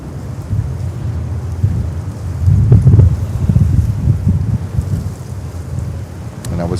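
Strong wind gusting at JFK airport in New York, a steady low rumbling roar that swells and buffets against the microphone, loudest in the middle, with no talk.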